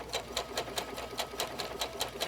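A sewing machine stitches through appliqué fabric layered on a base fabric, its needle running in a steady, rapid rhythmic chatter at close range, with no talking.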